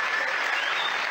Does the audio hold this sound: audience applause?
yes